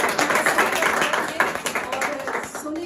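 Audience clapping during a franchisee training event, a dense, steady patter of many hands that fills the room, with murmured voices mixed underneath.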